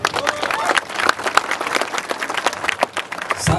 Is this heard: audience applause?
yes